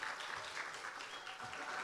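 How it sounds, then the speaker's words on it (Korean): A church congregation applauds during a Sunday worship service, a soft, steady patter of clapping heard at a distance, fairly faint and without voices. "박수까지."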